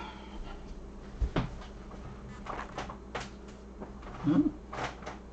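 A simple stool creaks under a person's shifting weight, giving several faint, scattered creaks and small knocks over a quiet room background, with one louder thump.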